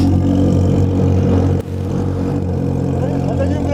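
A Honda Hornet motorcycle engine revs hard and close, a loud sustained mid-pitched roar that dips sharply for a moment before building again.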